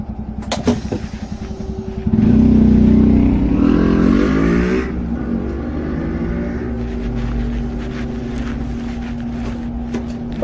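A motorcycle threads through central London traffic near Cockspur Street, its engine swelling into a loud close roar as it pulls out to overtake, then settling to a steady running drone with traffic noise around it.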